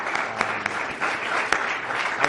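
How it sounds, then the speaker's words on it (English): An audience applauds a panel at a debate on war and the Constitution, steady clapping from many hands with a few sharper, louder claps standing out, and no talk over it. "a round of applause for everyone"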